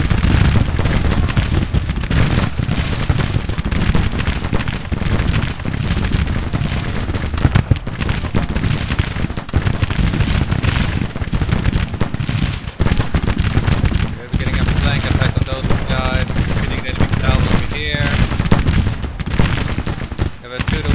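Ragged musket volleys from skirmishers crackle continuously in a Grand Tactician Civil War battle, dense overlapping shots with heavier booms mixed in, loud and sustained across the whole stretch, with a commanding voice speaking over the firing.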